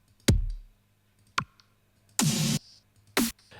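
A kick drum sample previewed in the Ableton Live browser lands as one deep thump with a booming tail, followed by soft mouse clicks and a couple of short noisy bursts in otherwise near silence.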